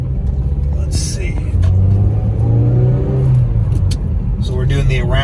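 A 2006 Mazda Miata LE with a factory removable hardtop accelerates through third, fourth and fifth gear around town, its engine droning loudly from inside the cabin with rising tones between shifts.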